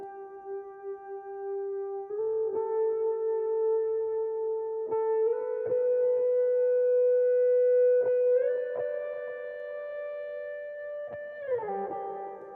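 A lead guitar melody runs through an Archetype Petrucci amp simulator with reverb, sustained singing notes stepping gradually upward with slides between them, then dropping near the end, smooth and moderately loud with no voices.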